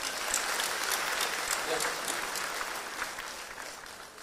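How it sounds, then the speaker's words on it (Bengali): Applause for a cricket team at an award ceremony on International Women's Day fills the room, a dense, steady clapping from a crowd that fades slightly toward the end. "তাদের জন্য একটা স্পেশাল হাততালি দিতে হয়"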